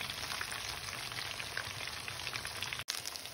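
Kebabs fry over medium heat in a pan, giving off a steady, soft crackling sizzle with faint pops. Nobody speaks.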